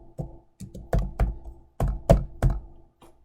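Typing ipconfig into PowerShell on a computer keyboard: about nine close, fairly loud key strikes in irregular bursts, with a soft final tap, and no voices.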